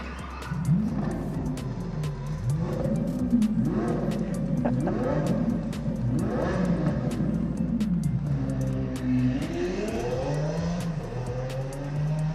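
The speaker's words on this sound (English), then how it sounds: "They actually incorporated the sound of a Lamborghini Sian taken off with this Lego." A Lego Lamborghini Sian model at a Canadian auto show plays a recorded engine sound: repeated revving sweeps rising and falling, then an accelerating roar, steady and close over background hall noise.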